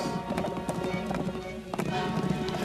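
Hooves of running Spanish Mustang horses drum in a quick, uneven patter, close and fairly steady, with a voice faintly present underneath.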